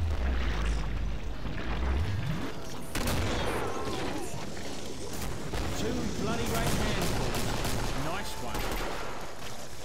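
Heavy automatic shotgun fire from an AA-12 in the co-op shooter Killing Floor, a dense run of loud, rapid blasts filling the scene from start to finish, with a brief break near the third second and talk mixed in.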